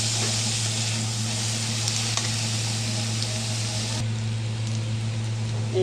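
Dried Bombay duck fish frying in hot oil with garlic and onion, a steady, dense sizzle that continues evenly throughout with a low hum beneath it.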